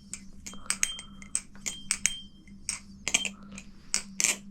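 A bushing-pivot balisong butterfly knife being flipped, its metal handles snapping shut in sharp, irregular clicks and clacks at close range, with a low steady hum underneath and no talking.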